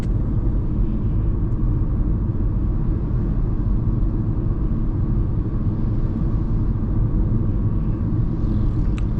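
Steady low engine rumble and road noise from inside a car cruising on a highway as it speeds up to 70, constant and loud with no talking.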